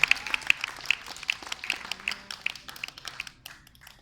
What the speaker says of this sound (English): Can I have a nice round of applause for my assistant, please?